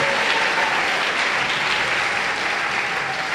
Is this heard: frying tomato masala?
no